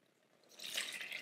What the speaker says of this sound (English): I'm going to pour the liquid into my flour, salt, cream of tartar mixture